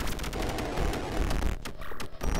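A trap detonating in the dungeon crawler game Dungeon Souls, giving a dense burst of crackling, gunfire-like blasts that fills the whole moment loudly.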